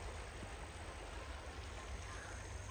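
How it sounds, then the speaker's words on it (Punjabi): Floodwater swirls and rushes past a cracked, weakened river embankment breach at Burj Tehal Das, giving a steady, dense roar close by with no pauses and no voices. "ਆ ਦੇਖੋ ਪਾਣੀ ਘੁੰਮਦਾ"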